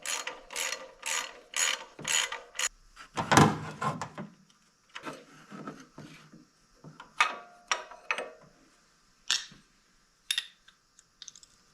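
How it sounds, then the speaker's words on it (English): An engine pulley on a 90s S-15 GMC Jimmy, belt removed, is spun by hand, giving bursts of rapid ratcheting clicks and grinding rattles, then scattered short ticks and clunks with pauses between. "I'll take the belt off, see if I can spin that pulley by hand."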